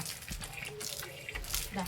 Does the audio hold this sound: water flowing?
yes